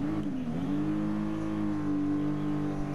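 A sports car engine in Gran Turismo Sport drag racing drones and revs steadily against a Lamborghini Huracan, its deep tone rising slightly and holding loud and close throughout.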